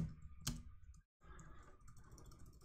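Someone types a short note on a computer keyboard, giving quiet, close keystroke clicks in a loose rhythm with a brief pause midway.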